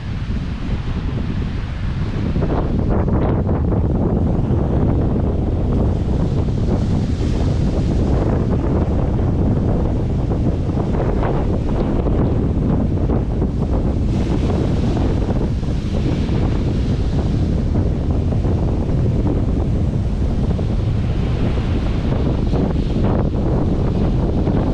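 Strong wind and rough, heavy surf roll in along the Gulf coast at Orange Beach, Alabama, the morning after Hurricane Zeta, a loud, steady roar of wind buffeting the microphone over crashing waves, with no talking.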